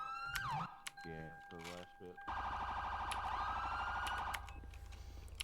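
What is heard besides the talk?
emergency vehicle sirens from a video game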